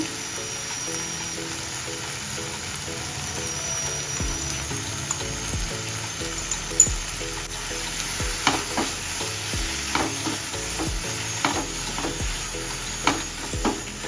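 Fresh prawns fry in a pan with a soft, steady sizzle, broken by repeated sharp scraping and clinking of a spatula stirring, close and without talk.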